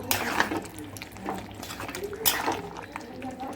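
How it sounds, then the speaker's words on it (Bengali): Chicken do-pyaza with fried onions being stirred in a pot, with spoon clinks and scraping against metal plus brief sizzle-like bursts, close and moderate, with faint voice in the background. "এবার আমি নাড়াচাড়া করে মিশিয়ে নেব"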